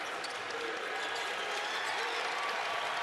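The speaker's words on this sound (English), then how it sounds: "Crowd here imploring the defense, showing the respect." A basketball crowd at a college game between North Texas and Western Kentucky roars steadily in support of the defense, a sustained loud arena din of cheering and clapping.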